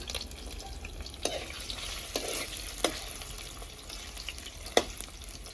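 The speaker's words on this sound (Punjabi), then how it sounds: "ਹੁਣ ਆਪਾਂ ਪਨੀਰ ਨੂੰ ਫਰਾਈ ਕਰ ਲੈਣੇ ਆ" Paneer frying in oil in a pan on a stove for malai chili paneer, a soft steady sizzle with occasional sharper pops and stirring scrapes, fairly quiet and close, with no talking.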